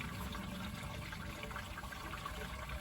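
Water rushing steadily through an RV black tank during flushing, a continuous hollow gush and trickle heard close and fairly quiet, with no talking.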